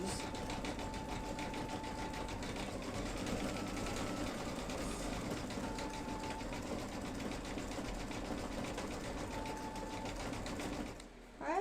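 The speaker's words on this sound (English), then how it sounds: "now it's stitching like a burnt orange for the leprechaun shoes." An embroidery machine stitches burnt orange thread for a leprechaun shoes design, making a continuous fast mechanical chatter at a fairly low level with no pauses until a brief drop at the very end.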